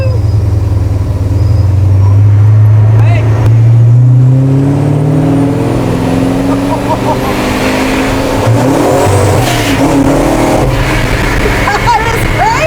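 A 700-horsepower custom 1955 Ford F100 truck accelerates hard, its loud engine roar climbing through the gears with some tire noise, close and dominant, while passengers whoop and shout over it.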